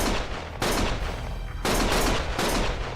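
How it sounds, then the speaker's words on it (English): Video game gunfire rattles in dense, continuous bursts, loud and close, with repeated sharp volleys surging over about three seconds. "Stop shooting!"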